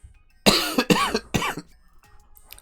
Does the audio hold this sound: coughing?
yes